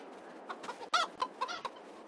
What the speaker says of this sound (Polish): Wolno latająca kura.